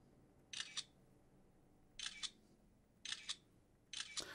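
A Xiaomi Mi 5X phone camera takes photos without flash, giving four crisp synthetic shutter clicks, each a quick double snap, spaced about a second apart against a quiet room.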